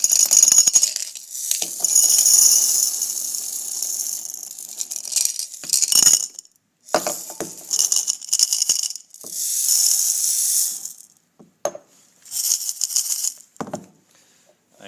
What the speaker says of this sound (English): And I mix some BBs in.